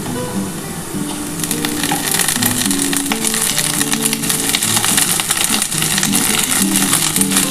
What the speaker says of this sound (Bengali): এবার এর মধ্যে আমি পেঁয়াজ কলি দিয়ে দিচ্ছি।